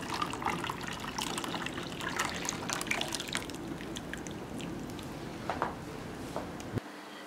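Melted butter being strained into a container while making ghee, giving a steady liquid trickle and pour with small drips, fairly close and continuous, without talk.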